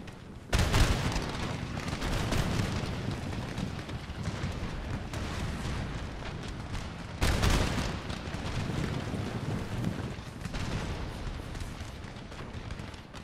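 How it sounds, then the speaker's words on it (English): Musket volleys and cannon fire roar in a Napoleonic-era Empire Total War (Darthmod) battle between Ottoman and Persian armies: two heavy booming bursts, each trailing into a long rumbling crackle of sustained gunfire. "get more guns firing at once"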